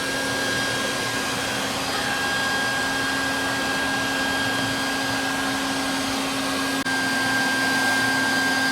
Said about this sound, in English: sucking the air out and getting the wrinkles out